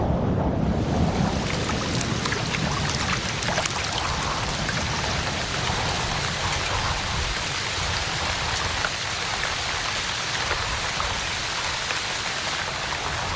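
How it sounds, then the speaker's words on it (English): Heavy rainstorm drenching a tropical forest after a long drought: dense, steady downpour hissing and pattering close by, unbroken for the whole stretch with no voices. "The long drought of February to May ended with violent cleansing storms drenching everything."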